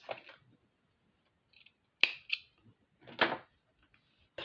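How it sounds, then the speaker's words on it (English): Scissors cut through a piece of 2mm flat faux leather, giving several crisp, close snips separated by short quiet pauses. "This is 2mm flat fake leather, but it's beautiful. So let's cut a piece off here."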